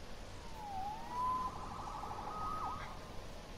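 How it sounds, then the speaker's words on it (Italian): A faint siren wails in the distance, its tone rising and falling a few times beneath a steady background hiss, in a Spider-Man animated episode. "Salvato dalla sirena."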